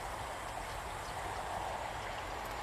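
Flowing water from a stream at a mountain rest spot beside a bench and trees, a steady soft rushing babble with no voices.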